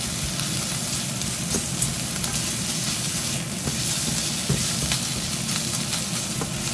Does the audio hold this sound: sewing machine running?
no